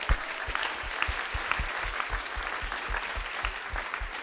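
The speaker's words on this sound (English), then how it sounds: "Clap her. She's from the Northern Rivers." Steady, dense applause from an audience at a 2014 centenary summit on youth engagement, clapping continuously for about four seconds with no voices on top.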